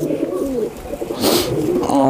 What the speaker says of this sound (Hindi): और ये भी देखें कमगर एक नर है, ये पहले वाली मादा थी, ये नर। और ये देखें पर इसके, बहुत ही शानदार कबूतर।